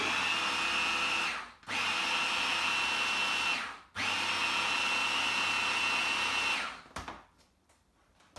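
A blender whizzes sweet potato chocolate frosting with cacao powder in three loud, close bursts separated by brief pauses, the motor winding down at the end.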